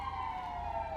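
Police sirens wail in a video game, a steady, fairly faint tone sustained over a low rumble of traffic.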